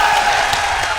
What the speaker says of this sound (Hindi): जरा ताली बजाइए, ताली बजाइए